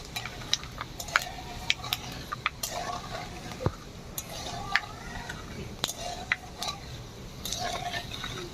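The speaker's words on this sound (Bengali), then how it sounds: "এইভাবে একটু খুন্তি দিয়ে নাড়িয়ে নেব।" A metal spatula stirs panch phoron whole spices in oil in a pan over a switched-off stove, giving scattered scraping clinks and light taps at a moderate, irregular pace, with a faint sizzle underneath and no talk.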